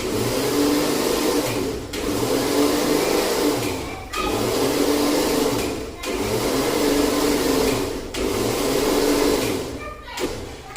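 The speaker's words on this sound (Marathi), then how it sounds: "त्याला आता आपण फिरून घेणार आहोत मिक्सरमध्ये" A mixer grinder churning cream into butter whirs loudly in short bursts of about two seconds each, stopping briefly between runs, five times in a row.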